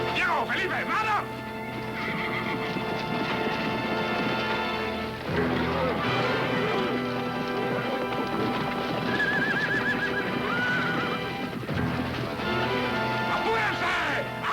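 Horses neigh loudly and repeatedly over thudding hooves and galloping, with a stallion among them, all mixed with dramatic music and shouted voices in a busy, chaotic outdoor scene.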